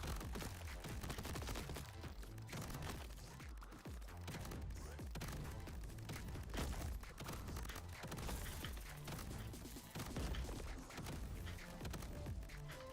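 Dual shotguns firing in the video game Crab Champions: dense, rapid blasts pile up continuously over a loud, busy mix of game effects and music, with no pause throughout.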